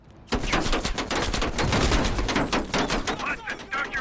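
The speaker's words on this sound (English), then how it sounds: "Heavy MG on the ridge." Heavy machine gun in a Cold War-era shooter campaign firing from a ridge, with rapid, loud bursts of automatic fire that run almost without pause across the whole stretch.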